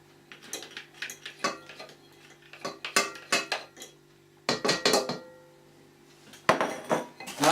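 Clinks and taps of a utensil against a bowl as egg yolks go in for a cherry meringue pie filling, in short irregular bursts, close and fairly quiet.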